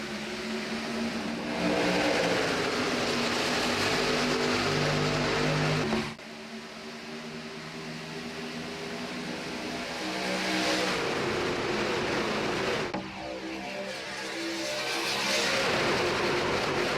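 Race cars on the Daytona superspeedway in the iRacing video game roar continuously at full throttle, engine pitch rising and falling as the pack passes, with two sharp cuts between sustained loud stretches.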